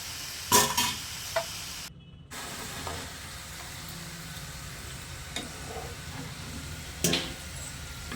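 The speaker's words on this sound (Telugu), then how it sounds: "బాగా వేయించుకోవాలండి గోల్డ్ కలర్ గోల్డ్ కలర్ వచ్చేదాకా వేయించుకోవాలి" Half moon biscuits frying in hot oil until golden, a soft, steady bubbling sizzle with occasional utensil scrapes and clinks, fairly quiet and close, without speech.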